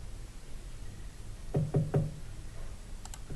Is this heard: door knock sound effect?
yes